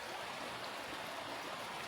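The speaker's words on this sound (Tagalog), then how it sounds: "Maulan." Steady rain falls across a tropical garden of papaya and dragon fruit plants, a dense even hiss that holds without a break from start to end, with no voices over it.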